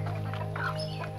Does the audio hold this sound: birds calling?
yes